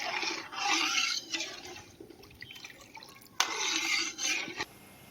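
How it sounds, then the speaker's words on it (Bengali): A watermelon and cornflour mixture comes to a boil in a pot over a gas flame, with bubbling and hissing surges that rise, fade and return, heard close with no talking. "এটা টকবক করে ফুটে গেছে"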